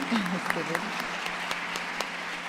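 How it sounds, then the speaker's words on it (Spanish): Applause for a speaker at a church forum panel, a moderate wash of clapping with a few sharper claps standing out, and a voice briefly heard at the start. "aplauso."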